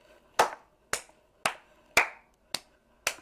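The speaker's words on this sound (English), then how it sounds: "That's a round of applause from me." Six sharp hand claps, evenly spaced about half a second apart, crisp and fairly close in a quiet room, in The Sims 3.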